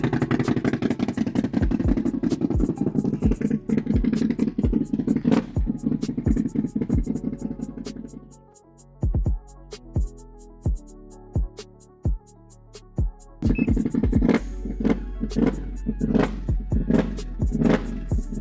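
A Can-Am Outlander Gen3 ATV engine runs close by with a loud, rhythmic pulsing chug. It drops to a quieter, sparser beat midway, then picks back up to a fuller running note.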